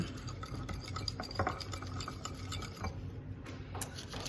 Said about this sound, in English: I'm gonna add some Italian seasoning, mix that up.